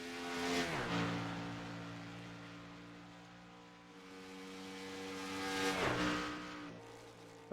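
Race cars lapping during the practice time left in qualifying, engines swelling loud as they pass close by, fading between passes, then roaring again, with no talk.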